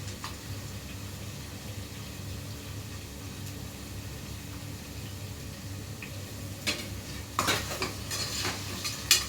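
Chopped ginger, garlic and onion fry in hot oil in a pan, a low steady sizzle that runs throughout, joined toward the end by louder stirring scrapes and metal utensil clinks against the cookware.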